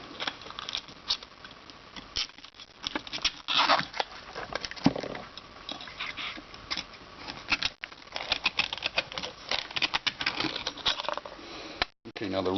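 A sharp knife cuts through the spider of a JBL LE5-2 midrange speaker, producing close, scratchy crackling and rustling bursts in uneven spurts, with brief pauses between cuts.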